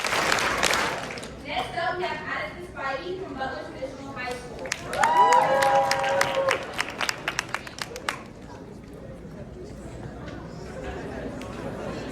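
High school students in an audience clapping and cheering for a student candidate after a campaign speech, a burst of applause mixed with chatter and voices, fading into scattered claps and murmuring crowd.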